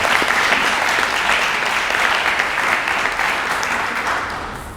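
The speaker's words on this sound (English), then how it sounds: "Why don't we give them another round of applause because it was from the heart." Sustained audience applause fills a hall at an award ceremony, dense and steady throughout before tapering slightly at the end, with no speech over it.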